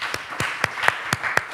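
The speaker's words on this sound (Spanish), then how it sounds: "Un aplauso para ella" Audience clapping at a data management conference panel in Bilbao, heard as six crisp, evenly spaced claps in steady rhythm, fairly close, with no voices over them.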